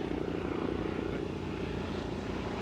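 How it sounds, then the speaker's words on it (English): A Life Flight medical helicopter passes overhead on its way down to land at a small airport, its engine and rotor making a steady, continuous rumbling drone that holds at a fairly even level throughout. "Now right there comes a helicopter. You might hear it."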